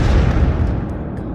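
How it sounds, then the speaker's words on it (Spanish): An explosion shaking a warehouse, a loud, close, deep rumbling blast that fades over a second or so, with no speech. "Una explosión de pronto sacudiría los cimientos del almacén"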